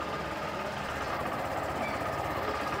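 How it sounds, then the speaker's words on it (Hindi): 2024 Honda Shine 100 motorcycle engine idling, a steady, fast low chugging putter at moderate distance, continuous and fairly quiet with no voices. "आइडियल कंडीशन पर इंजन साउंड सुनिए"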